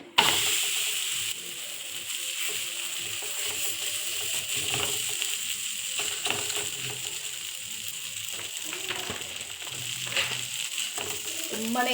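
Akki roti, a rice flatbread, sizzles on a hot griddle in a home kitchen with a steady, close frying hiss and occasional small clicks and scrapes throughout.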